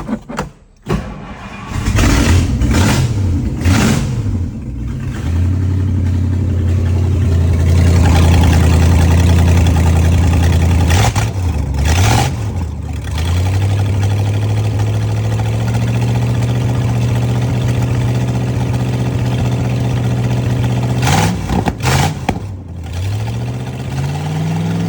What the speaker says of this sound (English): we're going to fire it up with open manifolds because V8